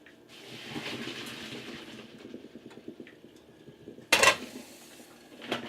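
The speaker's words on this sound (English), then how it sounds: "Drain the potatoes." Boiled potatoes drained from a metal pot, with a rushing pour of water and clattering pot sounds, then a loud metallic clank near the end, close and free of speech.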